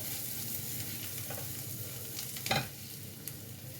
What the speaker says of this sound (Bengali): এবার এর মধ্যে পোস্ত বাটা দেবো